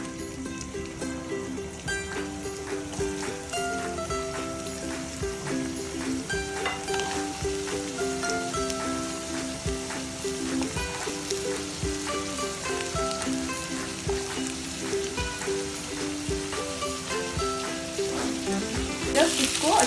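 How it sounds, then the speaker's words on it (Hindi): Potatoes fry in hot mustard oil with a dense, continuous crackling sizzle at close range, steady in level, with occasional utensil taps and a brief rise in noise near the end. "तो ऑयल गर्म हो चुका है, सबसे पहले मुझे पोटैटो फ्राई करना है।"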